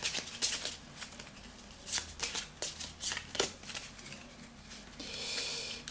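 A deck of blue rumour cards for the board game Les Contrées de l'Horreur is shuffled up close by hand, giving a quiet run of rapid riffling bursts followed by a softer sliding rustle.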